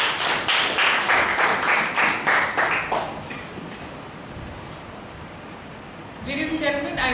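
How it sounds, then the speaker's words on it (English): Applause from an audience for a presenter at an evaluation session, a few seconds of steady rhythmic clapping that fades into room noise, with a brief burst of other sound near the end. "Applause for Sudeep, please."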